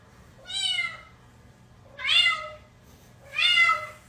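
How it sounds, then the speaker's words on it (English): A cat gives three drawn-out, wavering meows, evenly spaced a second or so apart, close and fairly loud against a quiet background. "I have never heard a cat make this noise before."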